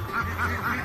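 A duck quacking in a short burst of three quick nasal quacks, close and moderately loud, with no talking.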